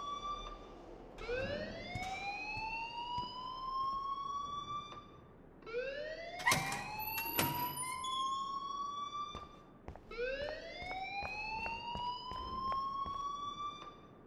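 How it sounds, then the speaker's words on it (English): An alarm in the Life Is Strange video game wails in three long rising sweeps, each climbing steadily in pitch, loud and close, with brief clattering hits in between. "please turn off that alarm since that's your job"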